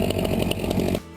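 A chainsaw mounted on a sawhorse rig with a toothed clamp runs loud and steady while cutting logs, its engine whine holding for about a second before cutting off abruptly.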